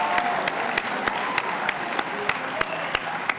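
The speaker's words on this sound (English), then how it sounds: "Let's give another round of applause." Applause fills a Black History Month celebration, heard as crisp, evenly spaced claps ringing out at a steady rhythm over a soft hall murmur.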